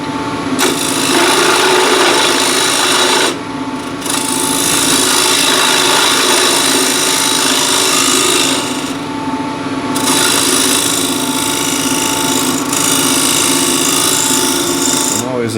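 A square end scraper cuts wood on a lathe, producing a loud, continuous rasping hiss that runs almost unbroken, with two brief dips where the tool lifts off the spinning workpiece.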